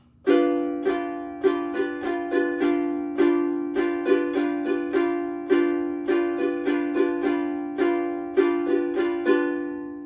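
Steady ukulele strumming in a repeating down-up pattern for a song, bright plucked chords ringing evenly for about ten seconds, close and clear with no voices.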